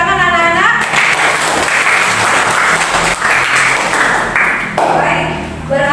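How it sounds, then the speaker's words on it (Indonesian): Children clapping together in a classroom at the end of a religious education lesson, loud dense applause with some voices and a tonal sound mixed in. "Tepuk tangan anak-anak."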